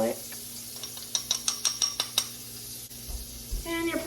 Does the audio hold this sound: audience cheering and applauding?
no